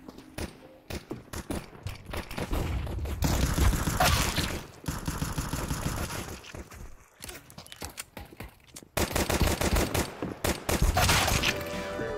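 Rapid spam-fired Five-SeveN pistol shots in Counter-Strike 2, loud bursts of sharp cracks in several clusters with short gaps, mixed with game noise and footsteps.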